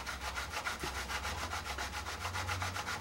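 A cane reed is rubbed back and forth on sandpaper over a flat scrape surface, a soft, steady rhythmic rasping of quick close strokes with no talk.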